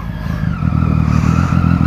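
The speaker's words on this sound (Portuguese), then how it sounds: "Vocês escutaram? O Lima sem DB Killer" Motorcycle with the exhaust dB killer removed, revving loudly up close with a deep, raw, pulsing rumble that climbs and stays steady, and no talking over it.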